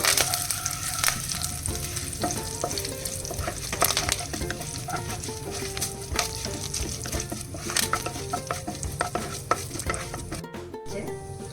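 Curry leaves frying in hot oil for a jackfruit-seed and cucumber olan, with close, steady crackling sizzle and frequent small pops that persist throughout.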